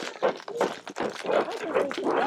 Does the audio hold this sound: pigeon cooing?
no